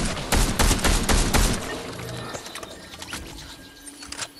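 Rapid bursts of gunfire in the video game Fortnite crackle loudly through the first second and a half, then fade to scattered faint shots and background game noise.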